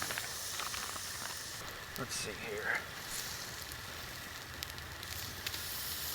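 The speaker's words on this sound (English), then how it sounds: "Oh, listen to that sizzle." Cajun-seasoned food sizzles and crackles while it cooks at a wild camp under a tarp, a continuous close hiss with someone speaking briefly over it.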